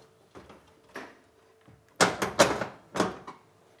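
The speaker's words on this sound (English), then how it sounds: "there's your door released, like so" Neff fan oven door being released and lifted off its hinges: a few soft knocks early, then a cluster of sharp metallic clunks and rattles close by, with no talking.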